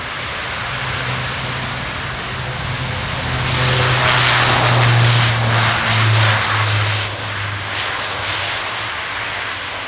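An Airbus A400M Atlas turboprop military airlifter flying a display at an air show, its engines droning steadily and swelling louder as it passes closest midway, then easing off, with no talk.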